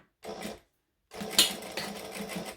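A sewing machine top-stitching a hobo bag: a short whirring run, a pause, then a longer steady burst of stitching, close and clear with no talking.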